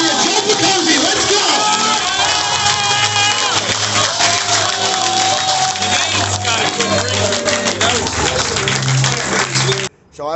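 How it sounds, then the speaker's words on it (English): A crowd at a Northeast Philadelphia local event claps and cheers loudly. Voices and music-like tones run through the applause before it cuts off abruptly near the end. "one more round of applause"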